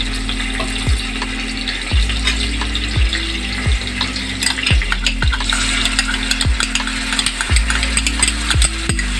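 Ginger garlic paste frying in hot oil with bay leaf in a pan, steady sizzling and crackling with repeated scraping stirs of a spoon at regular intervals, close and fairly loud.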